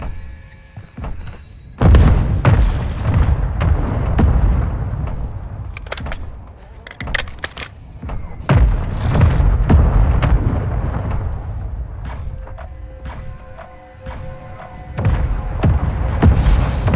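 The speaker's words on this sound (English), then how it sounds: "Mortar strike inbound now." Mortar strike explosions from Call of Duty Warzone 2 gameplay land in a series of loud, heavy booms with sharp transient cracks, spaced across the clip with rumbling decay between hits.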